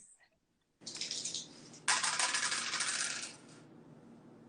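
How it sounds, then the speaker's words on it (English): Dice tumble and clatter across a hard surface in a loose rattling burst lasting a few seconds, fairly close and heard alone before fading out. "Roll the dice."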